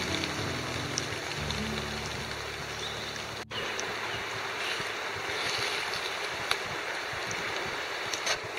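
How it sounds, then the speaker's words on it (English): A river rushes steadily through a UK forest in April rain, a continuous broad wash of flowing water with no break, heard from some distance with no voices. "I can hear the river down there"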